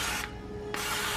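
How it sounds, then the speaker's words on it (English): Avocado oil misted from a spray bottle into reusable cup molds, a single soft hissing burst of about half a second, close and fairly quiet. "I'm gonna spray each mold with a little bit of avocado oil just to make sure it doesn't stick."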